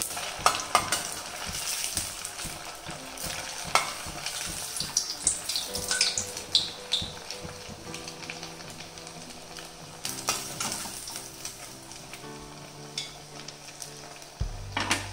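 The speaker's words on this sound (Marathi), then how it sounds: "थोडे आपल्याला मंद आचेवर आपल्याला फ्राय करायचे आहेत आपले वडे" Rice vadas made from leftover rice frying in oil on a low flame, a steady bubbling sizzle with scattered clinks and scrapes of a utensil, close and continuous, with faint background music.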